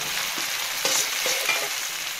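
Peas for pea pulao fry in a hot pan with a steady, loud sizzle throughout, broken by a couple of brief scraping stirs near the middle; no one talks.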